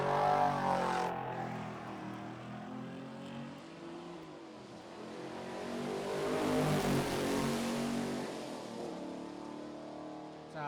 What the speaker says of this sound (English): A lot of noise from a whole lot of car there, the Aussie muscle car.